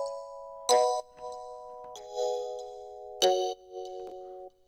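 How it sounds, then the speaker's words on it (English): A synth pluck built in Serum from a noise oscillator layered with a bell synth plays a short melodic phrase of bright, bell-like notes with noisy attacks and quick decays, clean and alone. "it's actually a pluck that I made in Serum, and all it is this noise oscillator with bell synth"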